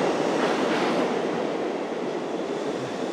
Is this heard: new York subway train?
yes